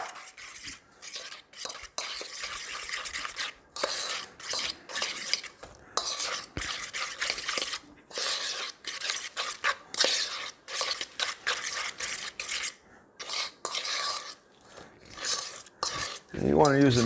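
Keto macadamia cookie dough mixed by hand in a bowl, with a rapid, uneven run of scraping and clicking strokes close by, pausing briefly between bursts.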